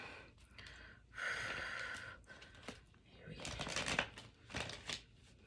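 Riffling bursts of tarot card shuffling, two separate runs of crisp fluttering, close by, with breathy pauses and small handling noises between them.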